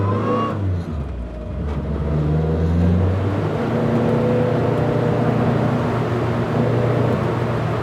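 A Renault 4CV road car drives along with a steady, buzzing engine note that rises as it pulls away, then holds a constant tone throughout, heard close from inside the car.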